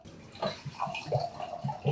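Orange juice poured into a glass, a short run of close, uneven glugging splashes.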